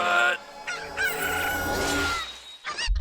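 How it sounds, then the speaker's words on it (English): A rooster crows in Persona 4 Golden, a loud drawn-out cock-a-doodle-doo filling most of the short clip, followed by a brief extra squawk. "thanks for the chicken attack"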